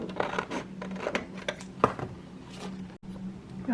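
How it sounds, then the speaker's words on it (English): Scissors snip through a paper journaling card in a series of short, close crisp cuts and rustles, irregularly spaced and fairly quiet. "I think I'm going to cut this one out."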